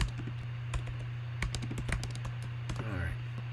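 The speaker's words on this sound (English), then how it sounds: "Excuse me for typing." Rapid bursts of computer keyboard typing clatter close by in irregular clusters over a steady electrical hum, with a faint chirping sound near the end and no talk.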